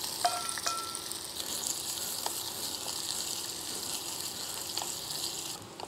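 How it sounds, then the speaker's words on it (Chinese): Ginger, small chilies and sliced garlic fry in oil over a charcoal flame, a steady close bright sizzle throughout with a few light clinks and stirring sounds. "我们先下这些香料，姜、小辣椒、蒜头"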